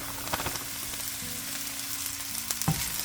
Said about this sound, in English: I'm going to go ahead and add the rice in